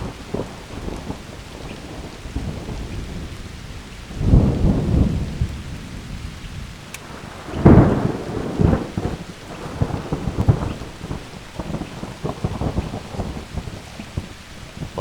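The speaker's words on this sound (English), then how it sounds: "That thunder was loud." Thunderstorm in a spruce forest: steady rain patters on surfaces while two loud, close rumbling thunder rolls boom out a few seconds apart, with lighter rumbles trailing after.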